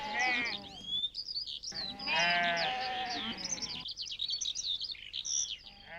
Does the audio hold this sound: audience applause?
no